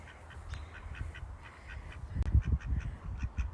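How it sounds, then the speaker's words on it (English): Several ducks quack repeatedly in short, scattered calls, faint and somewhat distant, with a low rumbling background and no talk. "Look at the duckies."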